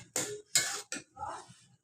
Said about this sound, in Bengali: এখন ভালো মতন কষিয়ে নিব ডিমটা